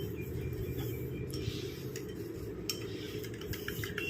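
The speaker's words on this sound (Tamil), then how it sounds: "இந்த மாதிரி கரண்டி வச்சு நல்லா கலந்து விட்டிங்கன்னா நல்லா திக்காக ஒரு கன்சிஸ்டன்சியில் நமக்கு வரும்" A spoon stirs egg white and powdered sugar together in a bowl, a steady close scraping and light clinking that continues throughout, with no voices.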